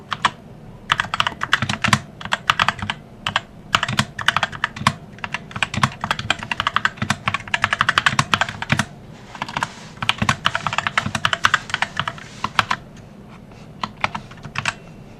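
Rapid typing on a computer keyboard while a ChatGPT prompt is entered, a dense, steady run of close clicky keystrokes across the whole stretch, with only a brief pause midway and no talking.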